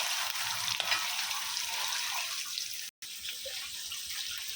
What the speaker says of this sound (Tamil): அதிலேருந்து 2 எடுத்து வறுக்கிறேன் பாருங்க